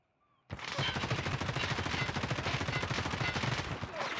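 Sustained automatic gunfire in Escape From Tarkov Arena, a loud rapid burst of shots starting abruptly after a moment of near-silence and continuing as a dense, close rattle.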